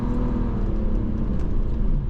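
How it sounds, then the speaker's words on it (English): A BMW E46 engine roars steadily at high revs in fifth gear at full throttle, a dense continuous drone with no voices over it. "the engine is revving up like it's a 458 Spider with a lightweight flywheel"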